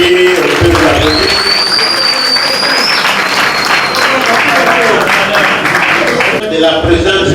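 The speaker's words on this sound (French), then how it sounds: "Merci, on peut vous applaudir." Crowd applauding at a political party convention in Kinshasa, sustained dense clapping with cheering and voices mixed in throughout.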